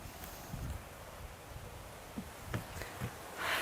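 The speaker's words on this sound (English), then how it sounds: "Oh, it's so breezy here, guys." Breezy outdoor wind during a yoga workout, a steady broadband rush with soft rustling gusts rising and falling, swelling louder near the end; no speech.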